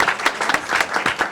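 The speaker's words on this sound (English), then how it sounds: "let's give them a round of applause" Live conference audience applause at UCSB, a dense wash of many hands clapping at once, steady and fairly loud throughout the short burst.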